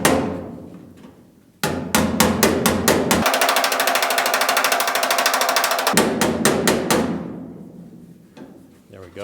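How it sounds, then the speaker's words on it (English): Light, rapid hammer taps against a dolly on a small dimple in the rear body panel of a GTO. The tapping comes in quick bursts, with a fast sustained run in the middle, and is close and fairly loud with no talking. "I'm going to do dolly on right here because this is like a big dimple"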